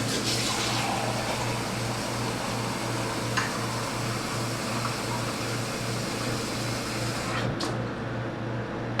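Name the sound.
cold water tap running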